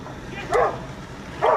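A dog on a city block gives two short, sharp barks close by, with a pause between them over faint street background.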